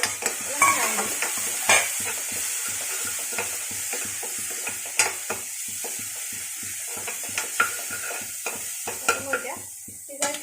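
Turmeric stirred into onions and tomatoes cooking in a pan for Assamese dal, with a steady sizzle and frying hiss under repeated scraping spoon strokes and occasional clinks against the pan.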